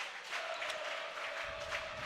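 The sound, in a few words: crowd cheering at volleyball game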